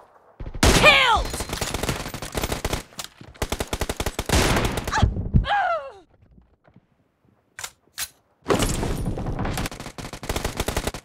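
Bursts of automatic rifle fire and single shots from a PUBG Mobile arena match, loud and rapid, separated by short gaps of near silence.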